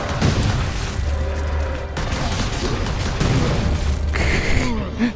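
Bomb squig explosions in the Warhammer 40,000 Space Marine video game, heavy booms and bursts rolling into one another over a dense layer of battle noise, loud and close, with a voice talking underneath.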